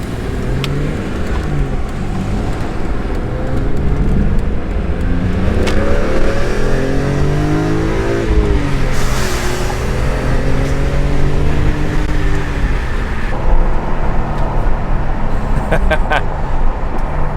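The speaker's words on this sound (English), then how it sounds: "You just lower the window and floor it." A car accelerates hard at full throttle with the window lowered, giving a loud, sustained engine roar that rises in pitch along with wind and road rush. A voice speaks over the noise.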